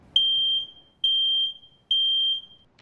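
A home smoke detector sounds three long, piercing, identical beeps, evenly spaced, loud and close with brief silences between.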